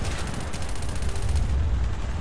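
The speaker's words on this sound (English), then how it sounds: "the world's crappiest rocket launcher I give to you here today" Rapid, continuous gunfire-like bursts from a rocket launcher in Fallout 4, loud and dense with repeated sharp cracks throughout, no talking.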